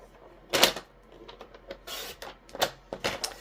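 A paper trimmer slices through cardstock while making a handmade card, giving a few sharp, crisp rasping cuts and clicks close by, with no talking.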